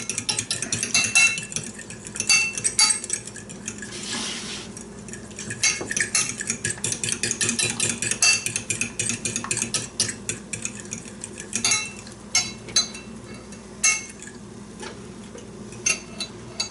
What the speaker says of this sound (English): Got my egg yolks in here. I need to beat them up a little bit.